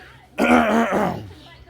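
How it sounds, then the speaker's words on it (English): A single harsh, gravelly throat clearing, close and loud, that fades after about a second. "I'm gonna keep clearing my throat for it."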